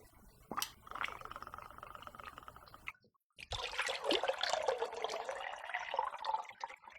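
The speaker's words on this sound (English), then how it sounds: "So we're gonna do 1½ ounces of Tullamore." Tullamore Irish whiskey is poured into a mixing glass for a cocktail, a faint liquid trickle with small glassy clinks, soft and close, with no talk over it.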